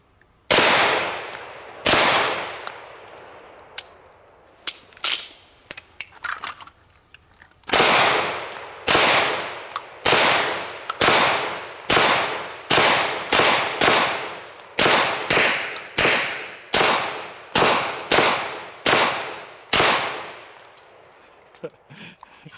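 A Taran Tactical Wicked 34 pistol fires a long string of sharp, loud shots at a shooting range, first singly with pauses, then in rapid, evenly spaced bursts, each crack ringing off briefly.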